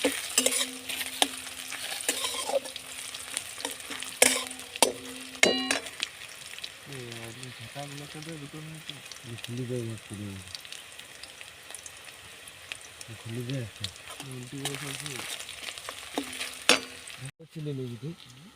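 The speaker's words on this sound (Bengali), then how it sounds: "মশলাটা কষা চলছে, জাস্ট তেল দিয়ে পেঁয়াজ দেওয়া হলো, পেঁয়াজ লঙ্কা।" Onions and green chillies with spices frying and being stirred in oil at a group camping cookout, with sizzling, scraping stirs and metal clangs, while voices talk intermittently nearby.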